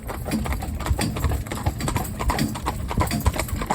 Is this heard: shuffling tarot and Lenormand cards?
no